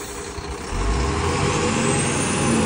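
A truck strains in low gear while climbing, its engine a loud, rough and steady roar close by that swells after the first second and holds heavy throughout.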